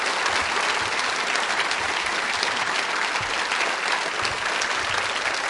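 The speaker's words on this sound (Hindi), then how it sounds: "तालियां इस संकल्प के लिए एक बार जोरों से बजाइए आप" An audience at a school quiz show claps in sustained, dense applause, loud and steady throughout with no voices standing out.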